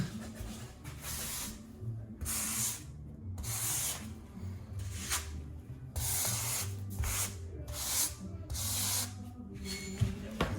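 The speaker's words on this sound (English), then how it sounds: "Just scrape my tiles clean." A margin trowel scrapes click-lock tiles clean in a run of about eight close, rhythmic rasping strokes with short pauses between them, and no talk.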